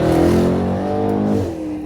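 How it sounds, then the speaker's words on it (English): A Mercedes-AMG E63 S with a twin-turbo 4-liter V8, full titanium exhaust and downpipes rumbles loud and close, its deep tone shifting briefly as the revs drop. "This is about as good as the sound out of the twin-turbo 4-liter V8 can ever get."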